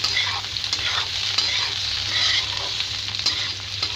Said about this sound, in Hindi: चलिए हम इसे 2 मिनट के लिए भून लेते हैं।